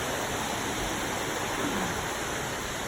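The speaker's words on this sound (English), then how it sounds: "It's a big old waterfall." A large waterfall on a river crossing during a hike roars as a steady, broad, unbroken rush of water, close and constant throughout.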